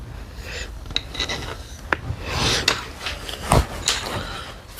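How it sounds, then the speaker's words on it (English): A wooden dowel is spun and rubbed back and forth by hand to mark its center, giving soft scraping, rasping friction with a few sharper clicks, close and moderately loud, with no voices. "And all I'm doing is spinning the dowel and moving it back and forward."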